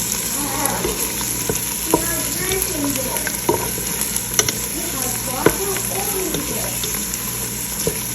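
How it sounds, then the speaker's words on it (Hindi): Onions frying in a pan for chicken do pyaza: a continuous close sizzle broken by scattered scraping knocks of a stirring spoon at an irregular pace. "ये हो गए हैं हमारे प्याज। थोड़ा सा हम और इन्हें भूनेंगे।"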